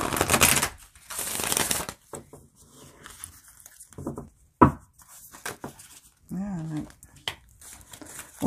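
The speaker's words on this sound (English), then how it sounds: "if I can riffle shuffle it." Deck of oracle cards riffle shuffled twice, two short crisp bursts of rapid fluttering card clicks close by, then quiet handling noises and brief soft voice sounds.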